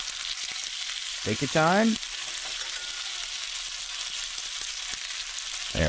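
Butter frying with polenta in a pan, a soft continuous sizzle with occasional light crackles, close and steady, while a person speaks briefly over it.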